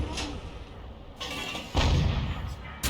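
An M44 self-propelled artillery gun in a tank video game firing a round: a loud, close boom that rolls on with a low rumble, followed by a second sharp blast at the end.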